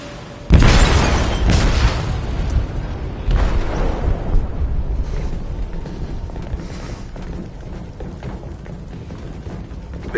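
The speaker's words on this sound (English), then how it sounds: "They detonated an explosive in the hold." A loud explosive blast detonates in a ship's hold in the video game Detroit, striking with a heavy boom and then rolling into a long, rumbling roar with debris and mechanical noise that slowly fades, with no voices.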